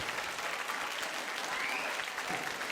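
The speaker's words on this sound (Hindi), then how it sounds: "जोरदार तालियां हो जाएं" Steady, dense applause from a stage-show audience at a Hindi talent contest, a continuous wash of many hands clapping at moderate volume throughout, with no voices standing out.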